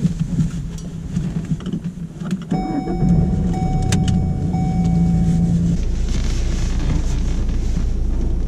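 A car pulls away at the start of a UK practical driving test, engine note rising steadily from a loud cabin rumble with no talk over it.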